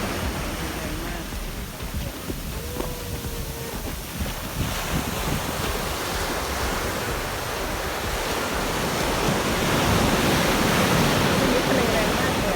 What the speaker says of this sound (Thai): วันนี้ทะเลแรงมากเลย